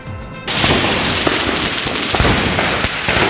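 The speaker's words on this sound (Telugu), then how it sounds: "షాపులో బాణసంచ పెద్ద శబ్దంతో పేలిపోగా దట్టమైన పొగలు కమ్ముకున్నాయి" Firecrackers explode inside a burning cracker shop in Hyderabad, a loud, continuous crackle of rapid pops and sharper bangs that starts abruptly and keeps going without pause.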